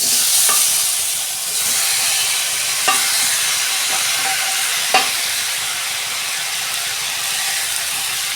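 Fried onions hiss loudly and steadily in a pan while being stirred, with a few sharp spoon taps against the metal standing out over the continuous sizzle.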